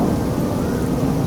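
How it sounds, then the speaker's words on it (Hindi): Heavy rain pours in a steady, dense roar with deep rumbling thunder underneath, a continuous loud thunderstorm with strong wind and no pauses or voices. "काले बादल आसमान में छाने लगते हैं और जोर की आंधी के साथ जोर की बारिश होने लगती है।"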